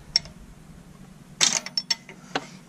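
Drum brake parking brake adjuster being turned with a tool, giving a few sharp metallic clicks and ratcheting creaks, one near the start and a quick cluster about halfway through, close and fairly quiet.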